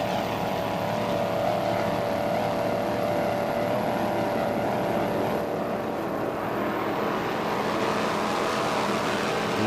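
Racing catamaran powerboats in the cat classes roar past continuously during an offshore powerboat race on the bay, a loud, dense engine drone with no talk.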